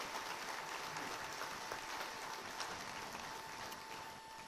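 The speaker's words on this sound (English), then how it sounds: "Please give them a big round of applause." An audience at a hall of fame induction ceremony applauds steadily, a dense wash of hand claps held at an even level from start to finish with no voices above it.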